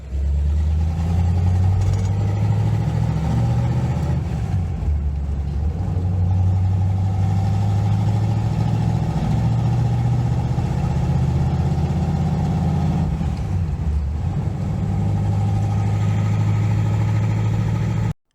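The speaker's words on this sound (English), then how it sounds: "here's just a short clip I took of the first drive" A 1970 Chevrolet Nova with new headers and a full new exhaust system on its first drive, the V8 rumbling loud and steady from start to finish, with a brief dip and swell around the middle and again near the end.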